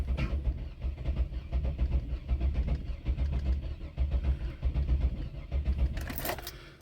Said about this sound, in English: We're just going to crank it a few times.